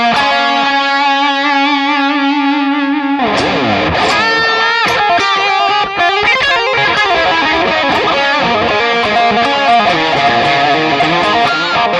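Electric guitar played through a Digitech RP1000 with heavy distortion, a long sustained chord followed by busy, ringing riffs with thick harmonics, loud and continuous.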